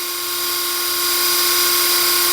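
Cordless drill running freely in gear 2 at the higher speed setting, a loud, steady high-pitched whine held close up for the whole stretch, alone with no talk.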